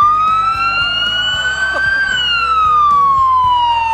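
Loud, close siren with a steady rising and falling wail, sounded to signal a crew at a stadium photo shoot, alone with no talk.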